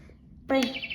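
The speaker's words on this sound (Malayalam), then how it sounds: "കിളിയുടെ ഒച്ച വെക്കും" A toy gives a sudden electronic bird chirp, a bright tweet followed by a warbling trill that carries on to the end.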